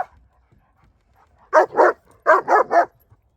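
A young dog in protection training, about 14 months old, lets out five loud close barks in two bursts, two quick barks then three in a steady rhythm, after a near-silent lead-in.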